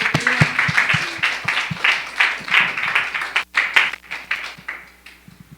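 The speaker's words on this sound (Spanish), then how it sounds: "este aplauso es para ti, Dios poderoso." A church congregation applauds with dense, sustained clapping that swells and fades in waves before trailing off.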